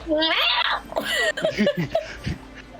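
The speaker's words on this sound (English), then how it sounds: "you can still hear just those cats" Cats yowl and caterwaul close by in drawn-out, wavering cries that rise and fall, loud and continuous over about three seconds.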